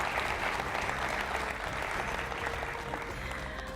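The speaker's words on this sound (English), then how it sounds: "Ladies and gentlemen, please give them a round of applause." Audience applause at the EU-Fiji University Quiz Challenge, a steady, dense wash of clapping from a crowd that holds evenly at moderate loudness throughout, with no talk over it.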